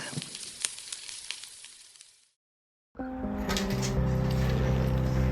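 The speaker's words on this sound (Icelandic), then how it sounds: "Reginn hafði beðið Sigurð að taka hjarta úr Fáfni og steikja það við eld" A dragon's heart roasting over a fire sizzles and crackles steadily, then fades to silence and returns as louder, denser sizzling with a low rumbling undertone.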